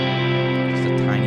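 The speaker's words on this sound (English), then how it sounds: "There's a little bit of 70s chorus that I have on there." A sustained clean electric guitar chord rings out with a 1970s-style chorus effect and heavy reverb, a dense, shimmering wash held steadily and loudly throughout.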